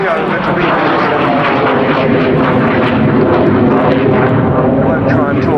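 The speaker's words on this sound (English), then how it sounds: "I won't try and talk over the two Avon engines." Hawker Siddeley Sea Vixen jet XP924, powered by two Rolls-Royce Avon engines, flies past at an air show with a loud, continuous roaring rumble that fills the whole stretch and does not let up.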